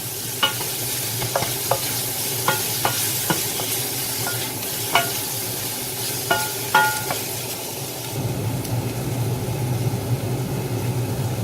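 Broccoli sizzles in a pan for chicken teriyaki stir-fry, a constant frying hiss punctuated by sharp spatula clinks and scrapes at irregular intervals, the clatter giving way to a steadier sizzle near the end.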